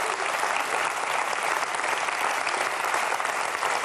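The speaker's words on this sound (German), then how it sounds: "Dankeschön, meine Damen und Herren, hier im Studio für diesen tollen Applaus." A German television cabaret studio audience applauds continuously, a dense, steady wash of clapping heard up close with no speech over it.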